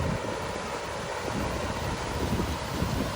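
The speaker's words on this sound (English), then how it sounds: "Oof, that's a kapow wind." Strong outdoor wind roars steadily and loudly against the microphone on a hike beside a creek, a dense continuous buffeting rush with no voices.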